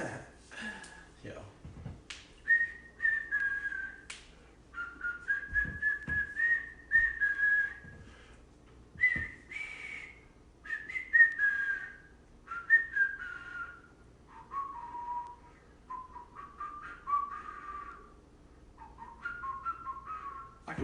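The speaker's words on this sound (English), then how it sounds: "I can whistle." Someone whistles a melody in clear, sustained phrases with short pauses between them, close and fairly loud, with a few sharp clicks or taps early on.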